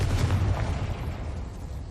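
The Confringo fire spell exploding in Hogwarts Legacy, a deep rumbling blast that fades over a couple of seconds, with no talking.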